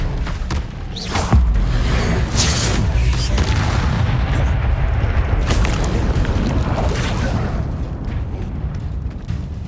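A spell blast in the Hogwarts Legacy video game gives a loud booming impact with crackling magical energy, sustained for several seconds before easing off, with no talk.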